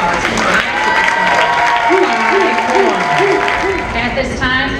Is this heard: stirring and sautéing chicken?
no